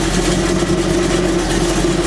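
A car engine with internally damaged mufflers runs steadily, a loud, constant low drone and rumble close by, with no talking.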